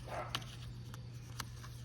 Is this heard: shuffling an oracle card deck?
no